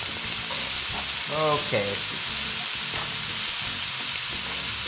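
Radish frying in a pan, a dense continuous sizzle close up, with a short spoken word and a brief voice over the hiss.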